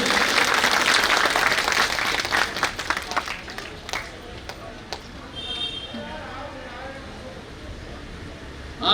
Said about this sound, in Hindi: तालियां जोर से नहीं बज रही भाई, जोर से बजाइए।